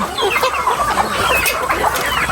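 Many laying hens cluck continuously on a small backyard farm, a dense, busy chorus of overlapping calls close by, with no talking.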